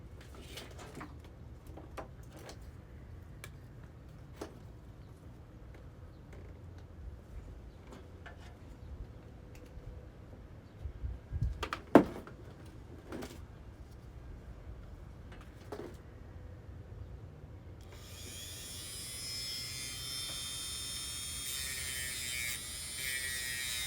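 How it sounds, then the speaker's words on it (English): A Dremel rotary tool polishing during a workshop build whirs up near the end into a loud, steady high-pitched whine. Before that come a long quiet stretch and scattered clicks and knocks. "Dremel."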